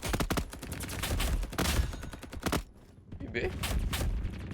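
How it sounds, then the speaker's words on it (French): Rapid bursts of gunfire from a weapon in a Roblox war game crackle loudly throughout, with a brief lull near the middle, while a player talks over the shooting. "J'adore cette arme en fait, je tire dans le tas."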